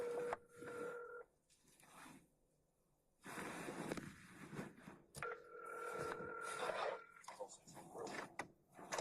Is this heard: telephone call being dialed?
yes